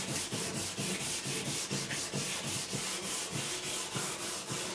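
Rhythmic back-and-forth sanding strokes smooth the fingerboard of a Jim Harley GJA ED4C electro-acoustic guitar during a re-fret, close and steady with an even scratchy pulse throughout.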